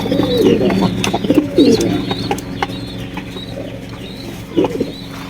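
Pigeons for sale coo near at hand, with repeated soft throaty coos in short bursts and a few chirps, over low background murmur and faint voices.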